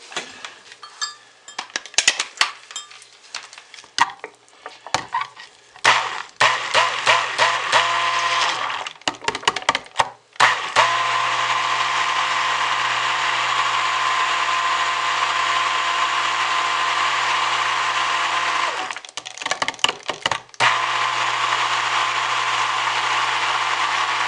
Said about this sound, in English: That was a lot of stick blending with the stencil.